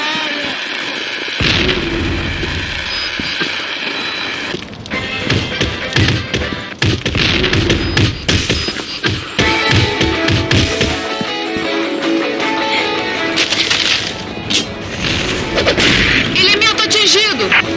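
Bombs burst in a Combat Arms match, a dense run of booms, thuds and popping blasts over continuous loud gameplay noise, with voices talking over the action.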